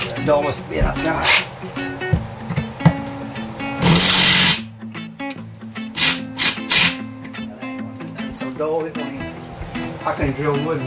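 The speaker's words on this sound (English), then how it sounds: "I can drill wood with it." A power drill drilling wood whirs in a short loud burst amid scattered knocks and clatter, with a dog's yip and brief voices around it, during a fifth-wheel RV remodel.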